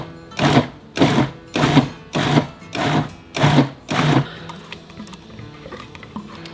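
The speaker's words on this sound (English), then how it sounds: "now that we have all of our major ingredients all cut up in the food processor" Food processor pulsing red pepper relish ingredients: six loud, evenly spaced bursts of chopping whir, each about half a second, followed by quieter kitchen handling noise.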